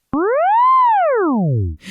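A single synthesizer tone, its pitch modulated by an LFO, swoops up and then slides back down in one smooth, loud arc, like an electronic wobble.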